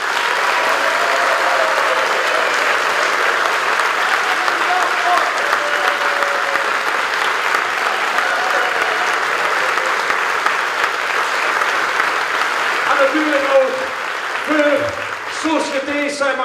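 A concert audience at a fanfare and pop choir performance applauds loudly for a long stretch, a dense, steady wash of clapping with scattered cheers and some voices near the end.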